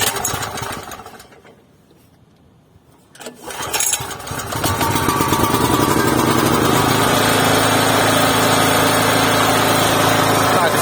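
A Bass Polska BP-5040 three-phase generator's engine is pulled to start, goes briefly quiet, then catches and settles into a loud, steady close-up running drone, with someone talking near the start.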